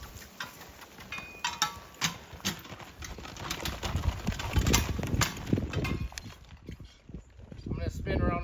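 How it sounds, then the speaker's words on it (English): Draft horses at work against a maple tree, their hooves clopping in uneven, fairly close thuds over a bird chirp, with people talking and calling commands. "These horses have too much energy."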